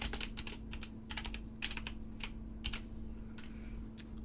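Fingers type on a computer keyboard in brisk, irregular bursts of close key clicks over a faint steady hum, with no talk.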